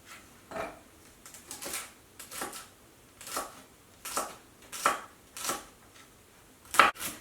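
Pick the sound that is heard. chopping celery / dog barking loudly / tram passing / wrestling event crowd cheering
chopping celery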